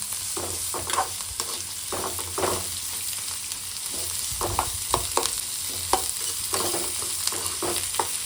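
Ingredients for moong dal dosa fry in hot oil while a spoon stirs the pan, a steady sizzle with repeated scraping strokes, close and fairly loud.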